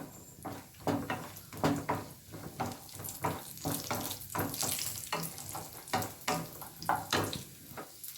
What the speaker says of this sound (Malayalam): ചെറിയ ചെറിയ പീസുകളാക്കി നെയ്യിൽ വറുത്തിട്ട്